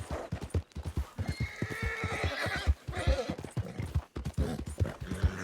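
Horse in the Red Dead video game whinnying over steady clip-clop hoofbeats of a gallop, loud and close throughout with a fast, even rhythm.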